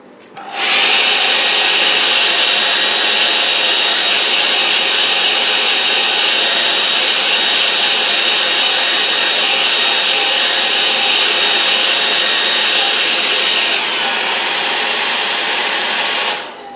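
A hair dryer blows close and loud over a wet watercolour snow-scene painting, a steady high whooshing whine that switches on, holds unbroken for about fifteen seconds with a slight shift near the end, then stops.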